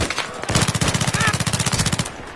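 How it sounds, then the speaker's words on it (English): A FAMAS rifle fires in Battlefield 3, one rapid automatic burst of closely spaced shots lasting about two seconds. The shots are loud and punchy, with a voice briefly over the start. "FAMAS just fires a little quicker than that."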